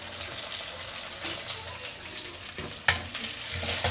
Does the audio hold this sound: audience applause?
no